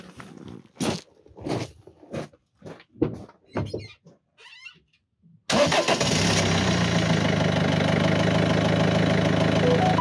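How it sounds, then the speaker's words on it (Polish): Someone speaks briefly, then an engine cranks and catches, settling into a loud, steady idle close by. "Dobra, odpalę silnik"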